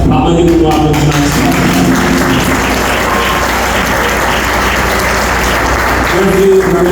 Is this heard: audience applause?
yes